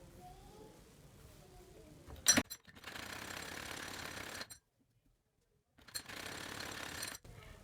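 A sewing machine stitches around the round neckline of a kameez, running in two steady rattling bursts of a couple of seconds each, separated by a sharp click and a brief silent pause.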